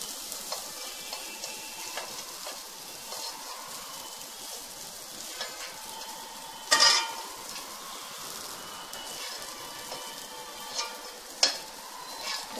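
Grated coconut roasting in a pan for foxtail millet honey laddu, a soft steady frying sizzle with occasional scraping stirs and a couple of sharper clatters, close and alone.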